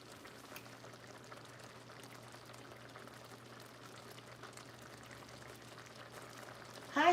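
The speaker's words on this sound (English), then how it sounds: "You hear that boiling?" Liquid bubbling at a steady boil in a pan of steak and gravy, a faint continuous simmering crackle with a low hum beneath, rising briefly louder at the very end.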